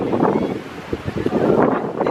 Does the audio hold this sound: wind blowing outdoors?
yes